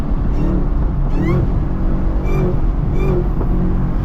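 A manual Chevrolet Camaro ZL1 with a supercharger drives along, its engine a loud, steady low rumble with rising and falling whine sweeps, close and continuous, no speech.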